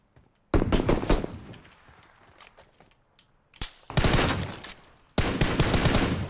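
Gunfire in the mobile battle-royale game PUBG Mobile: three loud, sharp bursts of automatic fire, close by, separated by short quiet gaps.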